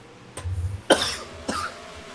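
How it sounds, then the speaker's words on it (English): A few dry coughs from a commentator during a sim race broadcast, two or three short bursts spaced about half a second apart, close to the microphone over faint background noise. "Cough, cough"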